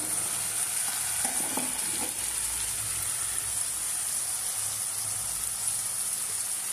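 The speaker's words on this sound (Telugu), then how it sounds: "వేసి కొంచెం కలుపుదాం." Chili powder is stirred into a pan of frying cluster-bean curry, giving a steady soft sizzle with faint scraping stirs early on, quiet and close.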